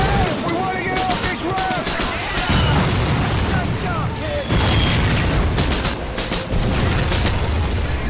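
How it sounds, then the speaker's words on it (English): Shelling explosions on a beach in Medal of Honor Pacific Assault: heavy booms land every couple of seconds amid constant crackling gunfire, loud and close. "They're shelling the beach, aren't they?"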